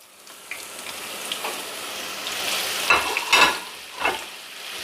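Spices and ginger sizzle in a hot kadai for creamy moong dal, a soft steady fry broken by a few sharp scraping stirs toward the end, with no voices.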